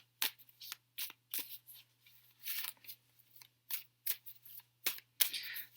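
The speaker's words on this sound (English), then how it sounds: "People want to see me shuffle, even though I'm shuffling back here." A deck of Wildwood Tarot cards shuffled by hand in a quiet room, coming as a rapid series of crisp riffling bursts separated by short pauses, fairly close.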